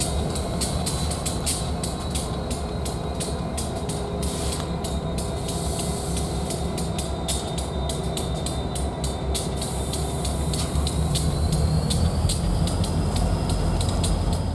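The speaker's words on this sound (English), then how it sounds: "After cutting away from its train, the locomotives pull forward to the end of the switching lead in order to reverse into the oil refinery." Buffalo & Pittsburgh SD60 diesel locomotives pull forward along a switching lead near an oil refinery, a steady loud engine drone with rhythmic wheel clicks and faint flange squeal throughout.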